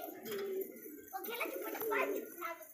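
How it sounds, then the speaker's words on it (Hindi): Pigeons coo softly in repeated low throaty phrases, fairly faint and close, with a few brief chirps mixed in and no talk over them. "ये देखिए बेहतरीन कबूतर एकदम"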